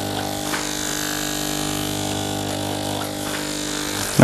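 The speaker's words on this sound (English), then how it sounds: "we're just going to use a little bit of clipper over comb" An Andis electric hair clipper hums steadily at close range during clipper-over-comb cutting, a continuous buzzing drone with a brief louder knock at the end and no talking.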